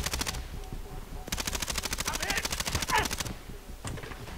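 Automatic weapon fire in a shooter video game, two long rapid bursts of evenly spaced shots at moderate distance, with quieter gaps and faint voices underneath.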